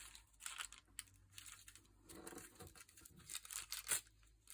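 Tissue paper being tugged and torn at by hand, producing quiet, close crinkling and tearing rustles in irregular bursts with brief pauses, and no one speaking.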